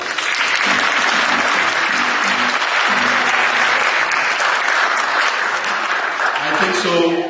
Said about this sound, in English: I think so the applause can be a little louder